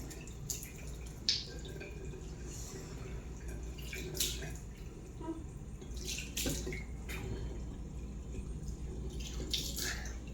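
Water is splashed and poured over a body to cool off on a hot day indoors, making soft, intermittent splashes and drips at close range over a quiet background, with no speech.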